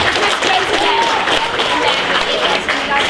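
An audience at a student hackathon show-and-tell bursts into sustained, dense applause with some cheering, loud and even for the whole stretch, with voices mixed in.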